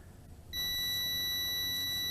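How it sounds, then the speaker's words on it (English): A single long, steady electronic beep from a JJRC X19 Pro GPS quadcopter drone, signaling GPS acquired, starts abruptly and holds at a high pitch, fairly close, over a quiet background. "I heard a long beep. That means we have acquired the necessary GPS"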